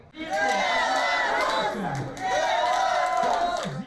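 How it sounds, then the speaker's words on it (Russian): A loud crowd of spectators cheers and shouts from distant stands at a tank race, in two sustained swells with a brief dip in the middle. "Поддержка с трибун слышна даже еще до старта."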